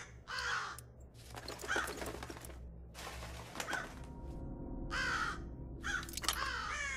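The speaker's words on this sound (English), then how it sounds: "Shut up, bird!" Crow-like caws from a bird in the stealth video game Thief, several harsh calls in bursts over a steady low background hum.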